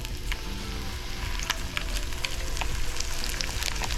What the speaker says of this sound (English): When you add the fish, it should start sizzling right away.